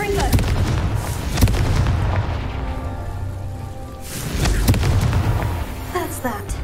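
A Confringo blasting spell goes off in a Harry Potter video game, giving deep booming explosive bursts and thuds in a loud, busy game soundscape, with a second swell of blasts later on.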